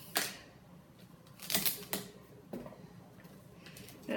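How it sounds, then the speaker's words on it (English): A knife chops the ends off a bunch of celery on an Epicure plastic cutting mat, giving three or four sharp, crisp clicks spaced unevenly, close and fairly loud, with no talking. "cut the ends off."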